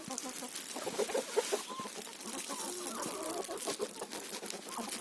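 Chickens cluck and chatter close by in a farmyard poultry yard as they are fed corn, a steady busy flock with a rooster among them and no talk over it.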